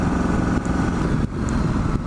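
Steady engine drone of a Ducati Multistrada 1260S motorcycle under way, a continuous close rumble with broad wind roar and slight dips as the throttle eases, no voices.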